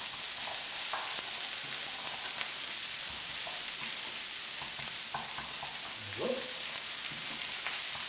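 Courgettes frying in warm olive oil in a pan, a continuous bright sizzle with occasional stirring clatters, close and steady, with no voices.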